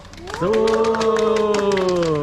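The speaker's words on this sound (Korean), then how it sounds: "박수 한 번." A family tour group on a package trip to Laos claps in a quick, steady patter that starts after a moment and carries on beneath a prominent voice.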